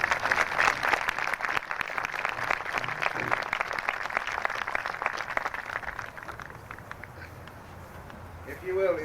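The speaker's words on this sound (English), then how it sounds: "I think this deserves a round of applause." Applause from an audience at a flag plaza dedication ceremony: steady, fairly dense clapping that carries on for several seconds, then thins and fades, with a voice starting to speak at the very end.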